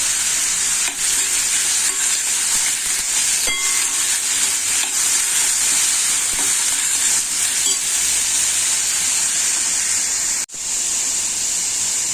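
Onion and tomato fry in hot oil inside a cooking pot, giving a steady, loud, continuous sizzle with faint stirring scrapes and a brief dip near the end.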